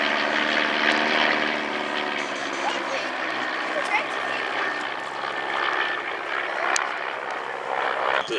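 A de Havilland Chipmunk monoplane trainer flies past at an airshow, its propeller engine droning steadily at moderate distance while a commentator talks over it throughout.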